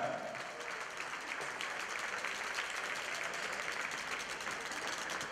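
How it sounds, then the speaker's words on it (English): An audience at a pageant final gives a sustained round of applause for the delegates, steady, dense clapping heard alone and fairly distant. "So I think our delegates deserve another big round of applause."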